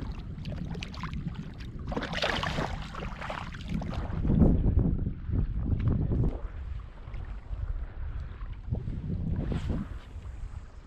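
Gusty wind roars over water and buffets across the microphone outdoors on a fishing trip, rising and falling in strong surges with a low rumbling undertone.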